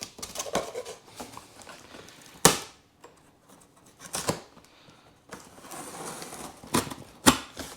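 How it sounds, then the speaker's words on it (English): A knife slices through tape on a stuffed cardboard box, giving a series of sharp scraping rips and clicks in irregular bursts, close and fairly quiet. "This box is stuffed, so I'm not gonna go ahead and push this knife in too deep here"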